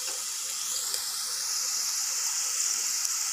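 Ginger, garlic and onion paste sizzles in a hot pan while cooking a chicken curry without coconut, a steady, even hiss that holds from start to end with no talking.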